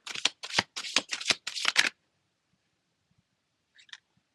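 Tarot cards being shuffled: a quick run of about six riffling, rustling bursts in the first two seconds, close and loud, followed by near silence and a faint brief flick.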